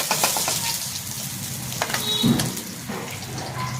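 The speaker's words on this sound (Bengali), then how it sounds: "দুটো মাছ ভাজা হয়ে গেছে, এই দুটো পিঠটা তুলে নিই, ও পিঠটাও হয়ে গেছে, দুটো মাছই ভাজা হয়ে গেছে" Two fish sizzle in a frying pan, a continuous crackling hiss broken by a few light clinks and scrapes.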